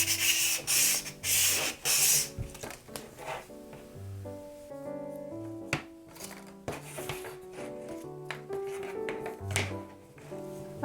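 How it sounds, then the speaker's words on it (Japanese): A 100-yen shop frame for a dollhouse room is sanded by hand in quick rasping strokes, loudest at the start and then lighter and intermittent, with soft music playing throughout. "ここをヤスリがけ。"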